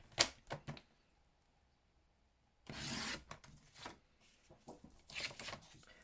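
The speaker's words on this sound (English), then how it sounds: "So we're having to trim the long side and then turn it round." A paper trimmer cuts along the long side of A4 cardstock in a quiet room, a soft rasping slide followed by rubbing and shuffling as the sheet is handled and turned, with a voice speaking at times.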